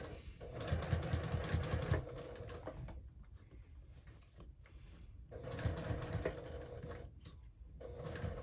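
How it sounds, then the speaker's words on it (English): Sewing machine stitching right beside a stabilizer on a hobo bag, two sustained whirring runs separated by a short pause, close and moderately quiet, with no talk. "I'm sewing directly next to that stabilizer"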